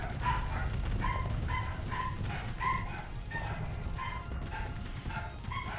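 Cartoonish dog bark sound effects from the space strategy game Starsector, fired as joke torpedoes, yipping repeatedly in a quick irregular series over a dense rumbling battle soundscape, fairly loud and clear with no talk.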